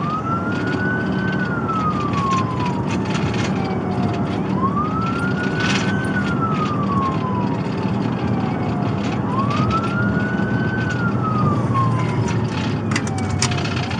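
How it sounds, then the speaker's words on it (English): Police car siren wailing in slow rising and falling sweeps, loud and continuous, near a police shootout scene. "have sirens on."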